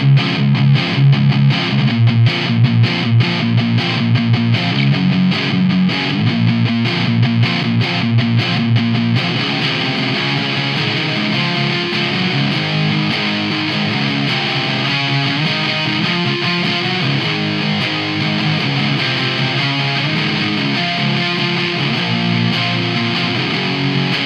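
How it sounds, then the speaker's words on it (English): Electric guitar played through a NUX Amp in a Box reissue distortion pedal, with a thick, muddy, low-mid-heavy tone; dense sustained chords ring out continuously and loudly for the whole stretch, with a busier strummed section at the start. "It's just an incredibly thick and muddy sounding distortion."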